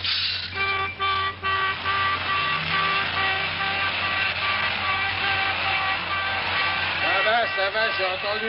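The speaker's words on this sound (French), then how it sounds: "Pas la peine de casser ton klaxon." A car horn honks in long sustained blasts with a rich harmonic tone, briefly pulsing at first then held steadily for several seconds, loud and close, with a voice shouting over it near the end.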